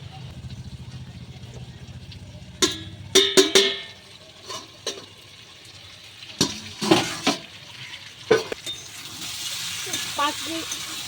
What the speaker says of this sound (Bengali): তো এটা আমি এবার কষিয়ে ভালো করে ঢেকে দিচ্ছি, কষিয়ে রান্না করব।